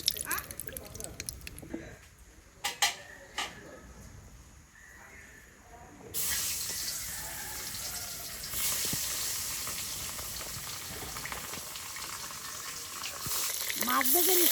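Fish fries in mustard oil with a steady close sizzle and crackle that grows louder partway through, under light stirring and kitchen clatter.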